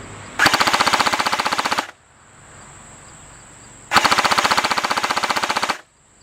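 An airsoft T3 .30 cal gun fires two long automatic bursts of rapid, evenly spaced shots, each about one and a half seconds long. A faint electric whine hums in the gap between them, and the sound is close and loud.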